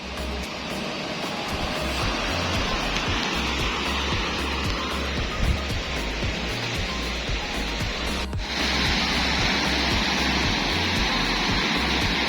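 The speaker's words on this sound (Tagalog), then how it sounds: "Medyo may alon lang, may kalbog dito sa Pampa" Waves slapping against a large wooden outrigger boat at sea, a constant heavy rush of water and spray close by, with a sharper thud of the hull partway through over an engine-like drone.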